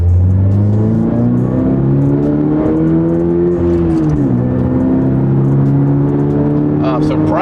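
A 2022 Subaru BRZ with a big brake kit, sway bars, strut bars and Cusco suspension on a test drive, its engine droning loud and close with steady harmonics that rise and dip as it shifts and changes speed.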